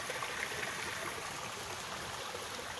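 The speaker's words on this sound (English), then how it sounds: "There's a waterfall down here." A small waterfall on a mountain trail in the Sierra Nevada pours steadily, a constant broadband rush of water with no breaks and no voices.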